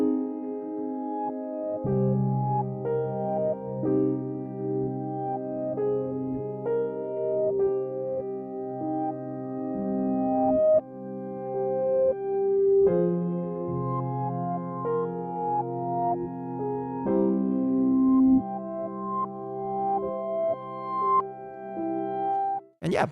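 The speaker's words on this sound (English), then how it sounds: "I'm just using the piano." Sampled piano from the Raw Strings library plays a sustained chordal passage alone, with layered harmonies and steady moderate loudness throughout, no voices.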